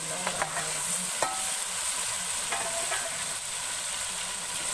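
Goat liver frying in a pan, a continuous close sizzle broken by a few sharp utensil clinks and scrapes as the pieces are stirred.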